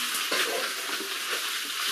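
Duck roasting in a pan gives a steady, close sizzle and crackle with faint stirring scrapes, and no voices over it.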